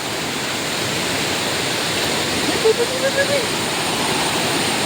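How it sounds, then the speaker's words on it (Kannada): A river rushes through a forest, a steady broadband roar of flowing water that fills the whole clip at an even level, with a few faint brief tonal sounds near the middle. "ನದಿ ನೋಡಿ ಎಷ್ಟು ಚೆನ್ನಾಗಿದೆ ಅಂತ"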